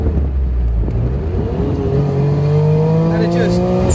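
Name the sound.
Suzuki Cappuccino accelerating after downshift to second gear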